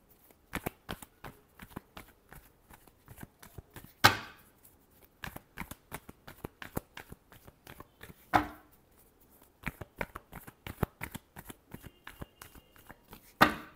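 Tarot cards are shuffled by hand in quick, crisp riffles and taps, with a few sharper bridging snaps standing out from the soft, close flutter.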